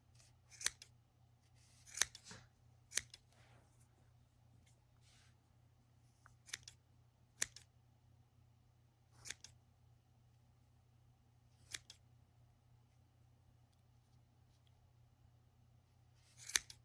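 Scissors snipping through yarn while finishing a crochet pom-pom: about nine sharp, isolated cuts spread irregularly over a quiet background with a low steady hum, close and clear.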